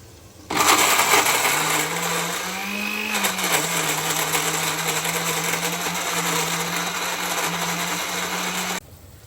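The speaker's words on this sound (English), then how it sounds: "I'm gonna prepare my tomato and green chili paste. So I'm gonna blend it over here" A kitchen blender grinds tomatoes and green chilies into paste, switching on abruptly into a loud steady whirr whose pitch dips briefly as the load shifts, then cutting off sharply.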